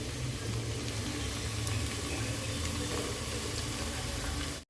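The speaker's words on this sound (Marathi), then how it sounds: "तेल आता आपलं चांगलं उकळलेला आहे त्यामध्ये आपण कांदा फ्राय करून घेऊयात" Chopped onions frying in hot oil in a home kitchen, a steady close hiss and crackle that runs alone and unbroken before cutting off abruptly at the end.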